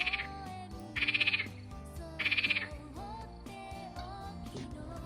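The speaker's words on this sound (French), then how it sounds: "la mare et les grenouilles" Frogs croaking in a pond at dusk, three bursts of rapid rattling croaks alternating with other faint calls, fairly quiet and alone.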